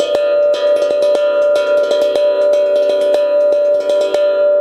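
A tongue drum played with fast, continuous strumming while stronger accented strikes land periodically on top, giving a ringing, pulsing rhythm up close.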